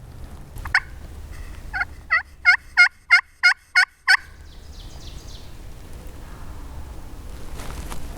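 A wild turkey gobbler on Wisconsin public land at dusk gobbles once, loud and fairly near, in a rapid rattling burst with a faint call before it, alone against quiet outdoor background.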